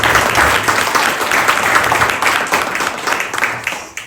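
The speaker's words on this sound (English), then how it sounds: "Let's give them a huge round of applause." Audience applause at a talk in an arts center, a dense wash of clapping from a sizable crowd that stays loud and steady, then thins and fades toward the end.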